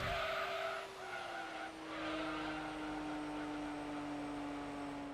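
A race car in Gran Turismo 3 holds top speed with a loud, steady high engine whine that drops slightly in pitch early on, then stays sustained with a faint tyre hiss underneath, no talking.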